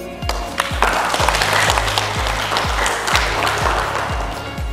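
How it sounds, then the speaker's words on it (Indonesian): An audience at a calligraphy seminar at UIN Sunan Kalijaga, Yogyakarta, claps steadily in a dense, sustained burst of applause, with a low, regular thumping pulse underneath throughout. "Tepuk tangan dulu lah."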